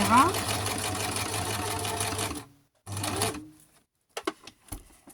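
A sewing machine stitches through a scrapbooking card in a fast, steady buzz that stops, resumes briefly, then ends, followed by a few light handling taps; a voice speaks over it.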